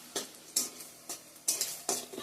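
Black cumin, dried red chili and bay leaf tempering in hot oil, with several short bursts of sizzling and spatula scrapes in an uneven rhythm against a quiet background.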